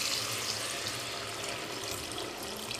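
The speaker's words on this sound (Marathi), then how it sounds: "या चिकनमध्ये आता आपण गरम पाणी टाकायचं आहे." Hot water poured into a pot of cooking desi rooster curry, a steady broadband rush of pouring liquid lasting throughout at moderate level, with no talking.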